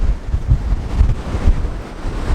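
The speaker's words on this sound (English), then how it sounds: "the winds are picking up" Strong coastal wind buffets the microphone at Holywell Bay in Cornwall, loud gusty rumbling that rises and falls, with surf and waves washing beneath it.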